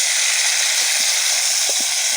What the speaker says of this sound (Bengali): নেড়ে নেওয়া চলছে।